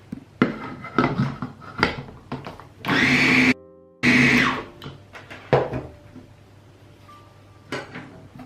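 A kitchen blender whirs through almond flour flatbread batter for a few seconds, cutting off briefly and then roaring back, amid clinks of utensils and bowls.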